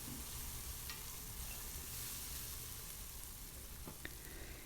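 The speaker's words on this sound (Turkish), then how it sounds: "Güzelce salçamızla soğanımızı güzelce kızarttık." Steady, dense sizzling of onions and tomato paste frying in a pan, with a couple of faint scraping clicks near the end and no talking.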